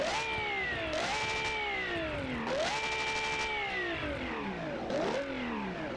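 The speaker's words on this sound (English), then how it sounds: "There's something wrong with the V12 exhaust system because this is ridiculous." A V12 engine in a video game revs hard three times in a row, its pitch climbing, dropping and climbing again, with a loud, rough exhaust note from a faulty exhaust system.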